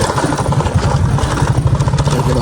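A motorcycle engine runs steadily close by with a low, pulsing idle-like throb and some mechanical clatter throughout, no voices present.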